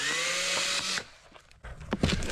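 A power drill whines steadily for about a second as it bores into a foam- or velour-lined bag shell, then stops, followed by handling clatter and rustling nearby.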